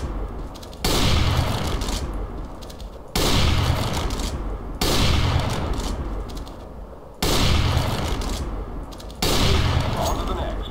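Rapid gunfire in the CS:GO video game on a shooting training course, loud bursts of automatic fire arriving in about five separate volleys with short gaps between them.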